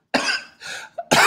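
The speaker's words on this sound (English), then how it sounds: "Making me cough." A close, harsh cough in several quick bursts, with a brief throaty sound between them.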